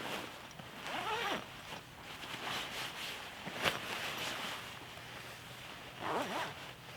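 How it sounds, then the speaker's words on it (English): A zipper on a Snugpak Special Forces sleeping bag is pulled in a few quick, close rasping strokes, separated by brief pauses and soft fabric handling, with no talking. "zip pull on the inside as well as the out"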